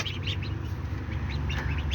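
Ducklings peck at feed mixed with corn grits at close range, giving soft, repeated peeping and clucking calls over a steady low background hum.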